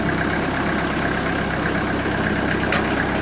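A Timberking sawmill's diesel engine, just fitted with a replacement stub shaft, runs at a steady idle rumble with a continuous mechanical drone up close as the saw head travels, a brief sharp click near the end.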